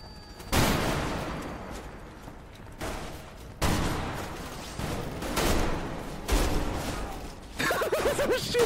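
Gunfire in the Roblox game Grave/Digger, a series of loud, sharp blasts with heavy booming tails, repeated several times with gaps between, and a faint voice briefly audible near the end.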